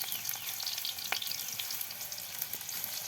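Chopped onion and green chilli frying in oil for a fig (dumur) bhaji, crackling and sizzling steadily at close range, with a few sharp pops and light stirring taps.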